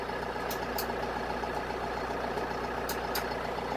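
A new Kioti tractor's diesel engine idling with a steady broadband rumble, punctuated by a few brief high-pitched clicks or beeps, no voices.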